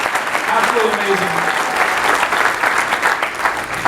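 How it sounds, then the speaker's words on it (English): An audience at a corporate training event claps loudly and continuously, dense applause with scattered cheers and a voice calling out over it. "Give all the speakers a round of applause"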